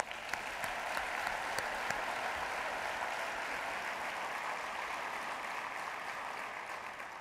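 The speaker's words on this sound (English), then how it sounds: "Give a round of applause for people of color" A conference audience applauds at the People of Color Conference, a dense even wash of clapping from a large crowd, steady and fairly loud with no voices over it.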